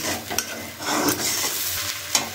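Semolina being stirred in a pan, a dry, continuous scraping and light sizzle with a few sharper spoon knocks against the pan, close and fairly loud, with no voices.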